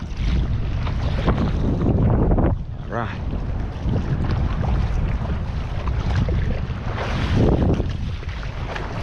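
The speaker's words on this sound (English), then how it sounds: "A little windy." Strong wind buffets a boat out at sea, roaring steadily with gusty swells and heavy microphone rumble, while a voice briefly speaks a single word.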